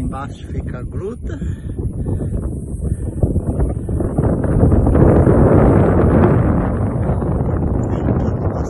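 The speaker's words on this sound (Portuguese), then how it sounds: "Ventando bastante." Strong wind gusts on Morro da Gruta, a rural hilltop in Almirante Tamandaré. They roar and buffet the microphone loudly and continuously, swelling in the middle, with a voice heard briefly early on.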